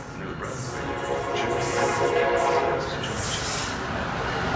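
A New Jersey Transit train runs through Metro Park station, a loud, continuous rumble and rush of rolling rail cars with faint high squeals and a hint of distant announcement-like voice underneath.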